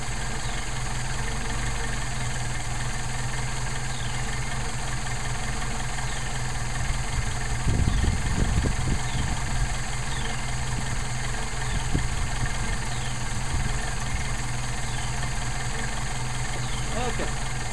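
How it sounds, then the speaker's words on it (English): A Mercedes 190SL engine with Solex carburetors idling steadily while it warms up, a constant low drone throughout with a few louder low thumps and rattles midway. "I'm doing this so that the engine can warm up"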